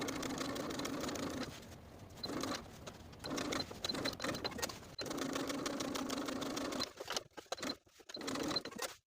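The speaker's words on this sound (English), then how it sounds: "we can go to the sewing machine and top stitch along our stitching line" A sewing machine top stitching runs in fast whirring bursts, stopping and starting several times, fairly close with no voices.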